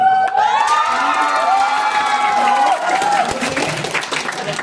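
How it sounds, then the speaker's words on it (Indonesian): An audience applauds and cheers for a contestant at a Quran quiz final, with a prominent voice or tone over the crowd noise that fades toward the end. "beri tepuk tangan yang meriah untuk Ibu A"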